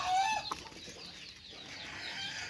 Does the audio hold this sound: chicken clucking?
yes